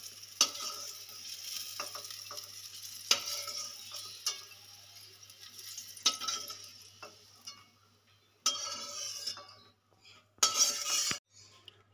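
Bitter gourd frying in a pan with oil, stirred and lifted out with a utensil; a quiet sizzle runs under intermittent scraping and clinking, with several louder bursts toward the end.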